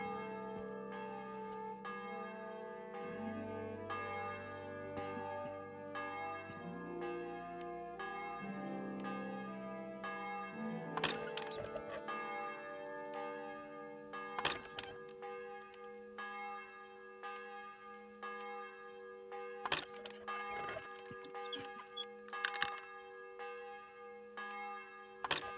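A church bell tolls in the video game Kingdom Come: Deliverance II, resonant repeated strikes ringing out with long decays at a moderate distance, joined later by sharper clanging hits.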